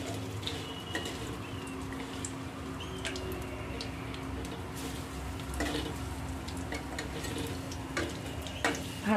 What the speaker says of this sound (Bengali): একটা পিঠ লাল করে ভাজা হয়ে গেলে আমি এবার অন্য পিঠটাও উল্টে দিচ্ছি, যাতে সবগুলোই লাল লাল করে ভাজা হয়।